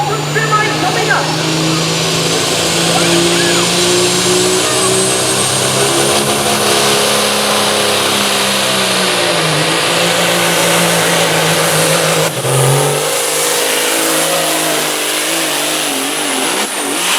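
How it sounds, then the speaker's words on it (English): A 1983 Mack Superliner pro stock semi with a Cummins TT 1150 engine competing at a tractor pull gives a loud, sustained roar that shifts in pitch and drops off briefly near the end, with voices partly buried beneath it. "1983 Mack Superliner with a Cummins TT 1150 engine."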